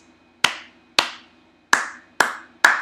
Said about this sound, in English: Yes, I have to clap.